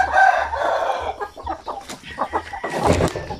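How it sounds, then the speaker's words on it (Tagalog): Chickens clucking inside a backyard coop, close and loud, with busy overlapping clucks and squawks and a short crowing burst near the end. "So ito yung aking mga manok o."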